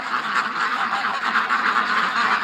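Ducks on a swamp outing with a dog named Doug quack and honk continuously in a dense, nearby chorus, loud and steady throughout with no talking.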